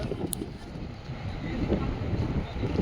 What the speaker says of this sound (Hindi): इतनी हवा चल रही है, ठंडी हवा, पूछो मत।